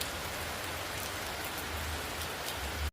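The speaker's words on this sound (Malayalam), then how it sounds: "മഴ പെയ്തുകൊണ്ടിരിക്കുകയാണ്." Heavy, steady rain pours down in Guruvayur during a week-long downpour, a dense continuous hiss of drops on surfaces with no voices, ending in an abrupt cut.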